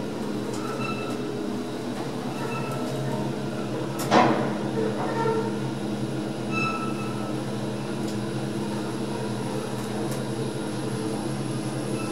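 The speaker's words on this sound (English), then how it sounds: "Door closed." A lift door at Gatwick Airport, in a tower converted from offices into a hotel, slides shut with one brief clunk midway through, over a steady mechanical hum with no talking.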